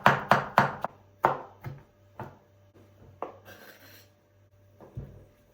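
Fresh parsley and dill finely chopped with a knife on a cutting board: a quick run of crisp close chops, then slower scattered cuts and a last chop, no talk.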